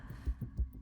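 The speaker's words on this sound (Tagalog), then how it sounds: "Naririnig ko ang tibok ng puso niya." Heartbeat sound effect: soft, deep low thumps in a steady rhythm, two beats pulsing in under a second against a faint hum, with no voices.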